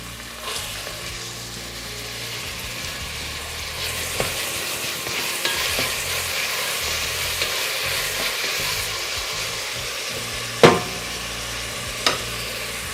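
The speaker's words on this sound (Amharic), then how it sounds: "ዛም ዘይታችን ሲገል ሽንኩርታችንን እንጨምራለን" Onions frying in hot oil make a steady, dense sizzle throughout, with occasional stirring clicks and two sharper scrapes near the end, close and without speech.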